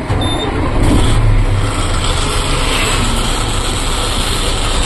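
A truck's engine drones loud and steady as the vehicle pulls away, a heavy low rumble with road noise filling the whole span and no clear peaks.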